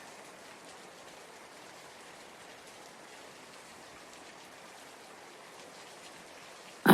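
Soft, even rainfall hissing steadily throughout, a gentle continuous wash with a brief louder knock at the very end.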